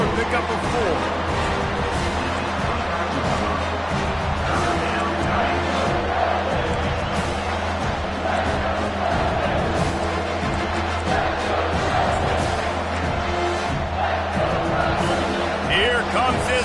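A home crowd at a UCLA versus USC college football game roars continuously and loudly in the stadium under a commentator's play-by-play talk.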